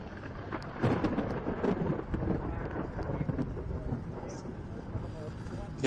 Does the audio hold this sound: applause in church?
no